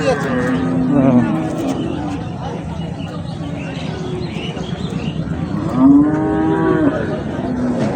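Dairy cows and calves mooing at the Ambari livestock market in Dinajpur, two drawn-out lowing calls, one early and one near the end, amid constant crowd chatter and nearby speech.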